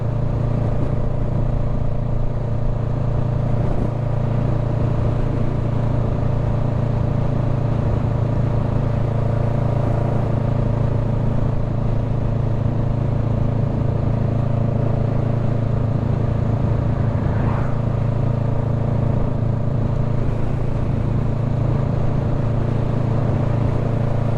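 Honda Rebel 500 motorcycle engine droning steadily while riding, a loud continuous low hum with wind noise and no clear gear changes throughout.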